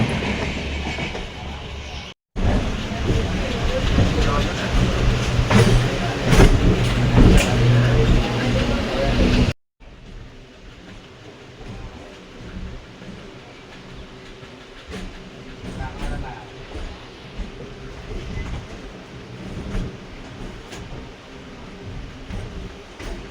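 A passenger train runs on the Palakollu to Nidadavolu line. Loud rumbling and clatter come from inside the carriage, then a sharp cut leads to a quieter, steadier rolling hum as it nears the station.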